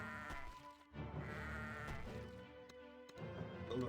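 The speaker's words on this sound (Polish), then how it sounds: "Tak, jestem okropnym człowiekiem, wysadzam owce na początku odcinka." Sheep bleating in the tower-defense game Kingdom Rush, several short wavering bleats repeating over a steady game music and ambience bed, fairly close and clear.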